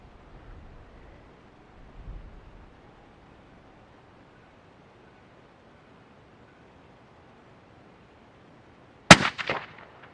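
A single sharp crack from a suppressed .22-250 rifle, the sixth round of a string, comes near the end after a long stretch of faint outdoor background hiss.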